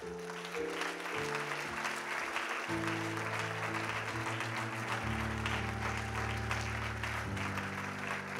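A church congregation applauds and cheers, a steady wash of clapping mixed with music and held chords throughout, fairly loud and unbroken.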